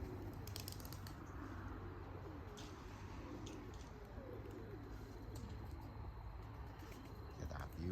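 Pigeons cooing at a loft on the Big Island of Hawaii, soft repeated coos from several birds blending into steady outdoor ambience with faint chirps, moderately distant and continuous throughout.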